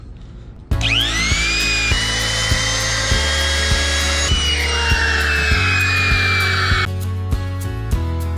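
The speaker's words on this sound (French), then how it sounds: "Je vais devoir creuser 8 mm à l'aide de la défonceuse." A wood router spins up with a rising whine and cuts an 8 mm deep groove during repairs to the rudders of the boat Black Lion 117. A loud, sustained high-pitched scream shifts pitch as the bit bites into the workpiece, then eases off.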